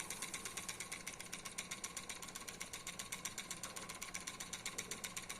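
A small speed-adjustable Ringbom-Stirling engine with a vertical flywheel runs at moderate speed, ticking in a fast, even mechanical rhythm, close and quiet, with no talk.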